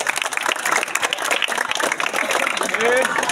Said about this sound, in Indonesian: Yuk, tepuk tangan sekali.